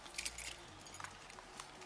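Car keys jangle in a few light, quick bursts as they are handed over from a stopped car during a police traffic stop, faint and close with no talking.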